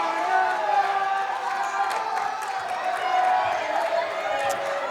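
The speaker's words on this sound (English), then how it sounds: "And they're cheering him." A wrestling crowd at an Abilene match between Franco Vargas and Chase Owens cheers and roars in the background, while voices talk over the crowd noise throughout.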